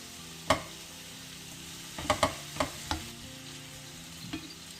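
Minced meat fries in a pan under a low, steady sizzle, with several sharp clacks and scrapes from stirring scattered through it, close and fairly faint.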